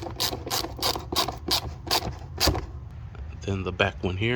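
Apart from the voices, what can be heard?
tightening hose clamps with an 8mm socket ratchet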